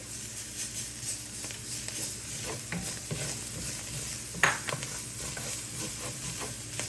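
Two garlic cloves go into a hot pan and sizzle steadily, with soft stirring scrapes and a brief clink of a utensil against the pan partway through.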